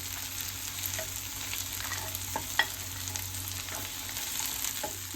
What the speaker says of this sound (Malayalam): ഉള്ളി മൂക്കണ വരെ ഇളക്കാം